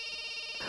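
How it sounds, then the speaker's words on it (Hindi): A telephone ringing in a dubbed South Indian action film scene gives a steady electronic tone that holds for a brief moment at moderate volume, without voices. "अरे बार बार फोन बज रहा है, उठाते क्यों नहीं हो?"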